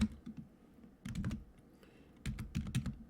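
Typing on a computer keyboard while working in Google Docs, close clattering keystrokes in two short bursts separated by a pause, moderately quiet with no voice.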